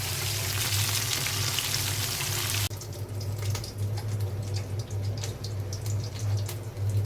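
Cornflour-coated chicken wings frying in oil make a loud, dense hiss that suddenly drops to a softer, popping bubbling with scattered crackles, heard close up.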